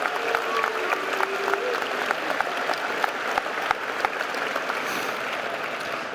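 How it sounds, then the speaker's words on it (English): Audience at a Papio South High School graduation breaking into steady applause, a dense patter of many hands clapping at moderate distance with a few sharper individual claps, sustained throughout. "Round of applause, please, ladies and gentlemen."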